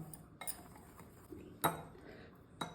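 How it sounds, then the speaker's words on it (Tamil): A spoon clinks and scrapes against a bowl as dry powdered ingredients for ragi chocolate cookies are mixed, giving a few faint, scattered metallic taps with quiet gaps between them. "ட்ரை பவுடர் எல்லாத்தையும் ஒன்றா நல்லா மிக்ஸ் பண்ணி வச்சுக்கலாம்"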